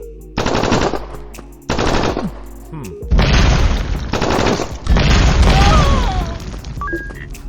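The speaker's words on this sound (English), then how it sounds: "the landmine explodes and the enemies will be gone" Loud explosive blasts from a landmine in the retro action video game Gunslugs, arriving as several heavy bursts with crackling, gunfire-like tails separated by brief gaps.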